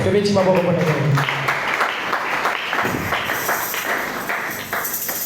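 A church congregation applauding at the close of a French-language jubilee service, dense clapping under voices and a ringing tone, fairly loud and steady throughout.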